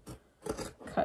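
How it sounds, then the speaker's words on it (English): Scissors cut through fabric for a slouchy beanie hat, making about three short, close snips and crisp rasping strokes in a quick run, with no talk. "So I'm just cutting it straight from this fabric"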